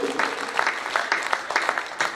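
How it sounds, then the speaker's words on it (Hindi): An audience claps steadily at a Hindi poetry recital in Pandhurna, a broad, even burst of applause that fills the whole moment with no voices over it. "आप तालियां बजाते हैं"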